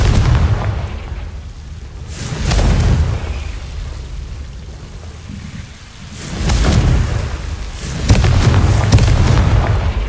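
Confringo blasting spells explode repeatedly in Hogwarts Legacy, with loud, booming blasts rolling in waves, several heavy bursts spaced a few seconds apart and a rumbling tail after each.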